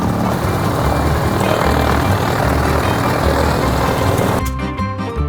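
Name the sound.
aircraft engine running at an airshow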